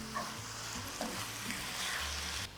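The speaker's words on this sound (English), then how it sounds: "some tomato paste. Give this a nice little stir." Tomato paste being stirred into a lamb and pea stew in a pot, a soft low sizzle with a few muted spoon scrapes, fairly quiet and close.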